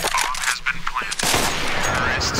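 Gunfire in the video game CS:GO, a short burst of loud close shots in quick succession over the first second, followed by a dense, noisy wash of continued firing and game effects, with voices talking over it.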